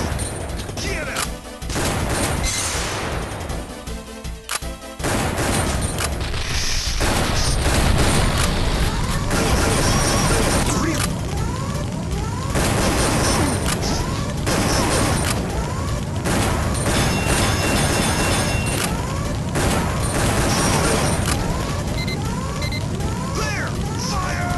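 Loud gunfire in a plug-and-play light gun game bursts in repeated volleys and booms over continuous game noise, with shouted voices and commands mixed throughout.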